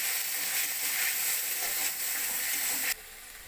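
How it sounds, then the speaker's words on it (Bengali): Ginger and green chili paste frying in oil in a pan, a steady bright hiss of sizzling that drops sharply quieter near the end. "আদা কাঁচা লঙ্কাটা ভালো করে ভেজে নেব"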